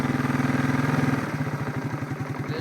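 A 1992 Suzuki Quadrunner ATV engine idles steadily up close, its rapid even putter loud and alone, the firing rhythm loosening and slowing slightly partway through.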